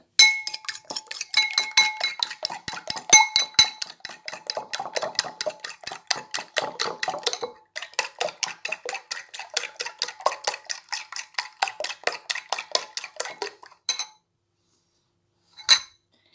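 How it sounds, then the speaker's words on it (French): Eggs for a spinach omelette are whisked briskly in a bowl, a fast steady train of clinking strokes against the side that runs for many seconds, pauses briefly, then ends with a few final taps. "En attendant, je vais battre mes œufs."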